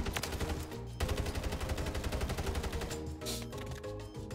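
Rapid sustained automatic fire from the SOA Subverter rifle in Warzone, a dense, steady stream of loud shots that barely pauses across the whole stretch, close and dominant with no voices.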